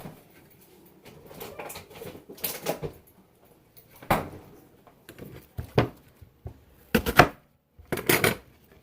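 Onion being cut into rough chunks on a cutting board during home cooking, a run of irregular knife strokes and thuds in bursts, close and fairly clear with quiet gaps between, no talking.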